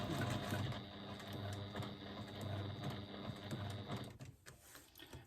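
A sewing machine stitches across a thicker section of four fabric layers, running with a steady close mechanical whir that breaks off near the end.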